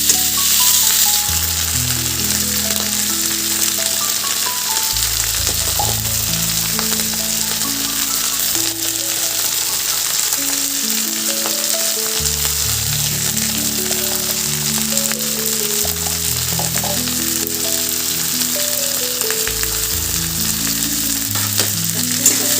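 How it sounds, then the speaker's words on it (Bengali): Cumin, coriander, chili and Kashmiri chili powders with ginger and garlic paste sauté in a pan for a drumstick and fish curry. A steady, close frying sizzle with stirring runs throughout under tonal background music. "দেব জিরে গুঁড়ো, ধনে গুঁড়ো, লঙ্কা গুঁড়ো, কাশ্মীরি লঙ্কা গুঁড়ো, আদা বাটা, রসুন বাটা দিয়ে ভালো করে এখানে আমি একটু কষিয়ে নেব"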